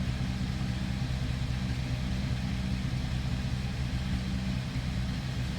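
A 1949 Ford Custom Convertible engine idles steadily with a low, even rumble that holds constant throughout, close by, with no voices.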